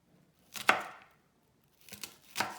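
A knife chops through a whole onion on a board in three separate crisp strokes, one alone and then two closer together, with no talking.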